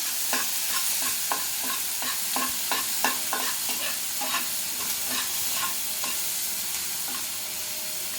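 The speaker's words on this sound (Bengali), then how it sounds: "পেঁয়াজটা প্রায় ভাজা ভাজা হয়ে যাচ্ছে" Finely chopped onion frying in a pan for sweet, hot and sour chole, with steady sizzling and repeated scraping stir strokes throughout, close and fairly loud, no talk.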